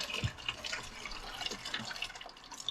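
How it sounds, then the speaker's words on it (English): Water runs and drips from a newly installed faucet into a corner bathroom sink at an off-grid home, a faint, steady trickle with small splashes and no talk. "Ooh, we got running water."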